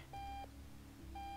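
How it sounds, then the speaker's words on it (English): A cartoonish alarm clock in the video game Octodad rings with bright, repeating electronic tones in two quick bursts over a low, steady hum. "Shut the fuck up, alarm"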